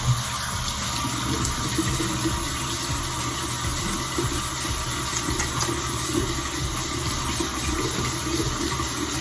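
Water runs steadily from a tap, a continuous hiss and splash at close range with no talking, holding the same level throughout.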